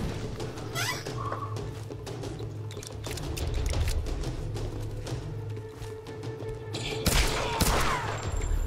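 Rapid bursts of gunfire in the video game Tomb Raider Definitive Edition crackle continuously at steady loudness, with sharper shots standing out near the end.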